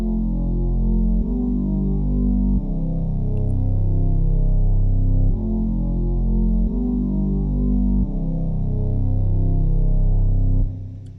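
A loud, sustained synth bass drone with buzzing, filtered harmonics, changing notes every few seconds and cutting off near the end.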